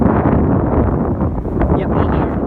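Strong headwind buffets an outdoor microphone at a disc golf field, a steady loud low rumble and roar with rustling gusts throughout.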